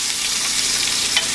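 Steak searing in a cast iron pan gives a steady, close hiss and crackle of sizzling fat, constant and fairly loud throughout with no talk.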